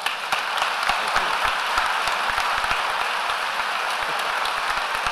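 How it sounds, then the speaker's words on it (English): An audience applauds after a lecture on the resurrection, a steady sustained wash of clapping with occasional sharper individual claps. "please hold your applause for just a second"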